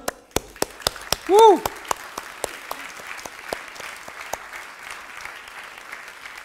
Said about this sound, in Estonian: teeme aplausi talle